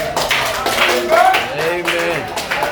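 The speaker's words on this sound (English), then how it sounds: "Give Jesus a clap off." A street-church congregation in Ocho Rios clapping for Jesus, with overlapping hand claps under loud singing and voices that carry through the whole moment.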